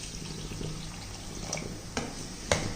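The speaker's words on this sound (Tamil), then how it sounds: "இப்போ மீல்மேக்கர் வேகிறதுக்கு நம்ம கொஞ்சம் தண்ணி ஊற்றி வேக விடுவோம்." Water poured into a pan of sautéed soya chunks to cook them, a faint, soft splashing trickle with a couple of small clinks, heard without talk.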